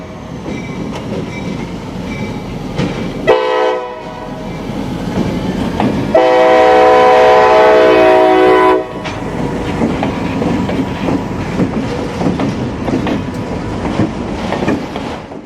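A freight train rolls past close by on an industrial lead with steady rumbling and clattering wheels, broken by two loud horn blasts, one short and one longer.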